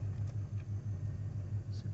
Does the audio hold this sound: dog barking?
no